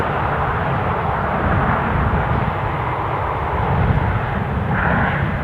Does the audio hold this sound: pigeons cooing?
no